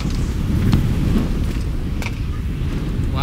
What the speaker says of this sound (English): the wind isn't quite finished with the crew